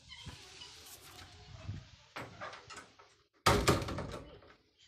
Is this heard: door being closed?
yes